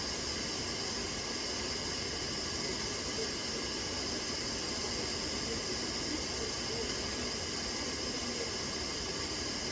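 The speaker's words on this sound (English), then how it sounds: "The steam is still coming out of that pot kind of heavy" Heavy steam hisses steadily out of a pressure canner pot full of pinto beans, a loud, constant broadband rush that holds without a break for the whole stretch.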